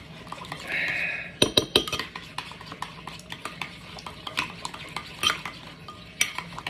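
A spoon stirs a mix powder together in a bowl for dinakdakan dressing, the Ilocano dish, with a soft scraping swirl first, then a run of sharp clinks and taps against the dish, close and clear with no talking.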